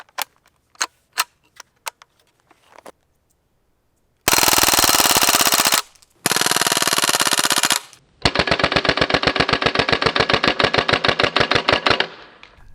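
Crosman AK1 full-auto CO2 BB rifle: a few single shots, then three long rattling full-auto bursts, the last slightly slower and uneven, loud and close with no talking.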